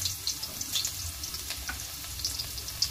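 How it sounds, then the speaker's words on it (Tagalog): Ginger sizzles in a hot pan while cooking ginataang, giving a steady crackling fry with small pops, moderately close and without talk. "So, ilalagay na natin yung luya."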